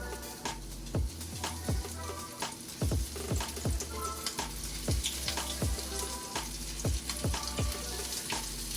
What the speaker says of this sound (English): So now we're going to add our chicken into the oil.